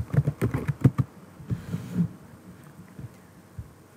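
Quick clicks on a computer keyboard as a search term is typed, a burst of rapid keystrokes at first followed by a few sparse taps, close and with no talking.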